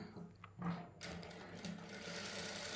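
A sewing machine runs close and loud, stitching lace onto fabric in a fast steady whir, starting after a brief quieter hum and staying alone without speech.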